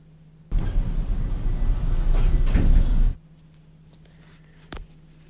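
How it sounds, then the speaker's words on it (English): Elevator doors in a Roblox game slide open and shut with a loud sustained rumble lasting about two and a half seconds, then quiet with one short knock afterward. "Door is opening."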